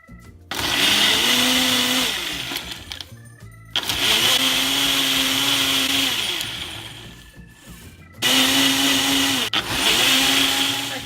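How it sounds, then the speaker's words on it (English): A Nutri Ninja blender on its ultra blend setting whirs through a thick banana ginger smoothie in three loud, sustained motor bursts, with the pitch sagging and recovering under load and short pauses between pulses. "we're just going to do it on the ultra blend function"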